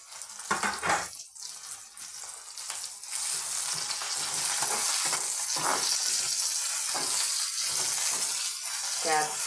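Curry leaves frying in hot oil with capsicum in a pan: a few clattery stirs, then a loud, steady sizzling hiss that continues without a break.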